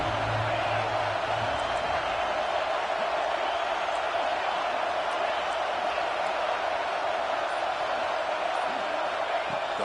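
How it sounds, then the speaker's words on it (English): A stadium crowd roars steadily on third down in a college football video game, a dense, loud wash of cheering that holds evenly from start to finish. "Third down and the crowd really getting into it."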